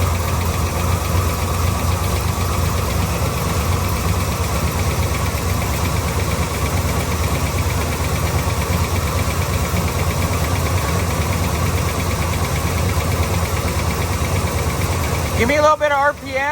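A 1972 Chevrolet Nova engine idles steadily, a continuous near rumble with a faint ticking knock throughout, and a brief louder disturbance right at the end.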